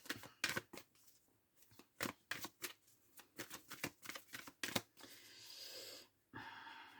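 An oracle card deck is cut and handled with a rapid sequence of close, crisp card snaps and riffles, followed by a softer sustained rustle and brushing near the end, with no talk.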